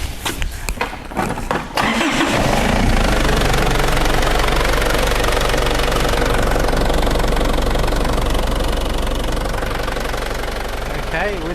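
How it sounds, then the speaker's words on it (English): A Holden Isuzu Rodeo with a lack of power cranks briefly in a few rough bursts, then catches and settles into a steady, loud, close idle that runs to the end. "I'm gonna start the car now."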